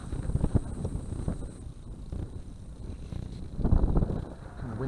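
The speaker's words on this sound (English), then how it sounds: "And the wind's just got up more." Wind blows across an open outdoor spot near a fence, a steady low rumbling buffet against the microphone that swells toward the end, with no other clear sounds.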